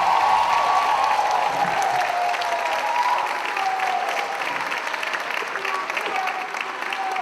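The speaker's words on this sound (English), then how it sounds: "She's gotten the biggest applause in this whole event" Crowd applause at a city councilmember's inauguration ceremony, a steady sustained wash of clapping and crowd noise with a voice faintly audible underneath throughout.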